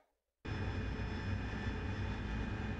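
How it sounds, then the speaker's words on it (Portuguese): A tanker aircraft's engine in the DCS World flight simulator cuts in abruptly after a brief silence, then holds as a loud, steady, broadband jet roar with a sustained whine for the remaining seconds. "Isso é o avião tanque."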